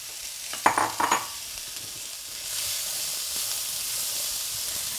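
Chopped zucchini and corn dropped into a hot skillet, a few clattering knocks followed by a steady, broad sizzling hiss that swells and holds, close and fairly loud with no talking.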